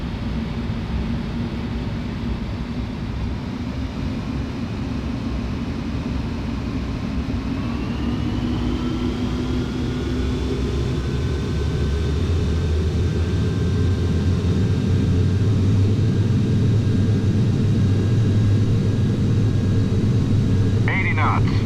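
Jet airliner engines in Microsoft Flight Simulator X spool up for takeoff, a steady loud roar with a rising whine that climbs in pitch partway through and then holds, running continuously throughout.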